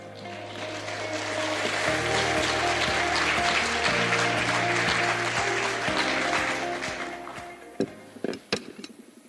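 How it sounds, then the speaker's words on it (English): A crowd at the 2026 Yushan Forum opening ceremony in Taiwan breaks into sustained applause that swells and holds, then fades out, with a few final scattered claps at the end. "Please welcome him with a warm round of applause."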